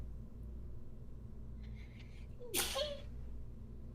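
A single sharp sneeze bursts out about two-thirds of the way through, close and loud above a low steady rumble in a quiet setting.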